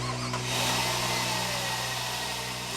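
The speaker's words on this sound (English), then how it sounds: "you can really hear it work, especially when you rev the engine" Engine of a Jeep Grand Cherokee fitted with a washable aftermarket air filter, a steady mid-pitched running drone with a slight rise in intake rush, heard alone and fairly quiet.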